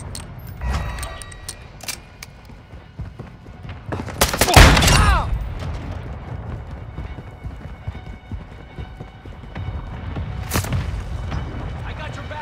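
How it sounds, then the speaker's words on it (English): Mortar strike explosions in the video game Call of Duty: Modern Warfare II: a loud booming blast near the middle, with a second burst later, over a busy bed of battlefield noise. "Friendly mortar strike on the way."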